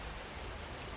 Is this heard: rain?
yes